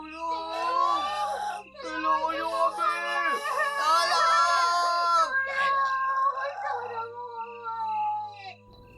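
Screaming and wailing voices in a narrated Filipino horror story, loud overlapping cries rising and falling for several seconds, then fading into quieter moans.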